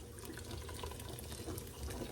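Beer pours into a pot of BBQ sauce as a soft, continuous liquid splashing and trickling, faint and steady throughout.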